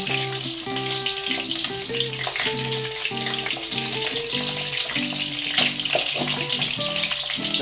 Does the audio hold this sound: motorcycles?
no